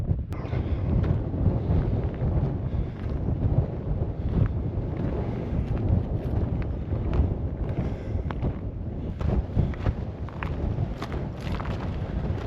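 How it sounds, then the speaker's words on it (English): Strong cold wind gusts across a desert ridge in Death Valley, buffeting the microphone with continuous loud rumbling and no voices. "Really cold and windy climbing this ridge"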